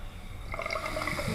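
A Mr. DIY bidet sprays water indoors, a soft hiss and trickle that starts faintly and grows steadier partway through, heard alone and close.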